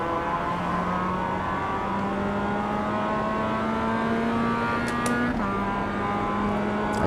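Mazda MX-5 Cup race car on a flying lap at The Bend West Circuit in iRacing, a loud steady engine drone climbing in pitch through the gears, with a quick shift and a brief dip near the end.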